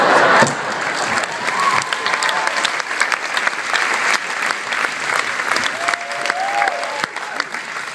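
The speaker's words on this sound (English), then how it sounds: "our families deserve a round of applause to show how much we thank and care about them" A graduation audience at SIPA claps steadily in a sustained round of applause, with scattered individual claps and faint voices mixed through the crowd noise.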